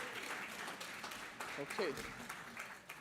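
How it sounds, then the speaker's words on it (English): Applause from a conference audience for a keynote speaker: a brief wash of clapping with a person speaking over it. "A round of applause for our keynote speaker."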